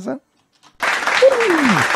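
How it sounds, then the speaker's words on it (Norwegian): Applause breaks out after a short pause, a dense burst of clapping, with a voice sliding down in pitch over it like a cheer. "Så du skal få litt applaus"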